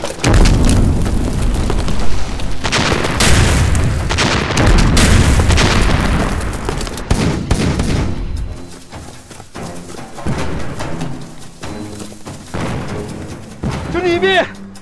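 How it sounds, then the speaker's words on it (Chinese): Rocket fire and explosions in a war drama battle scene, with heavy booming blasts and a dense rumble through the first half. Shouted voices and quieter action sounds follow as the din eases. "李斌，有狙击手，火箭弹压制"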